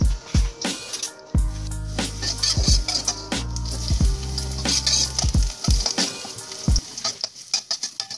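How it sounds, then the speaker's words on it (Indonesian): Garlic frying in a pan, a steady crackling sizzle with several short bursts of stirring and scraping, loud and close, and no talking. "kemudian kita goreng dulu bawang putihnya agar untuk mendapatkan rasa yang cukup agak kecoklatan"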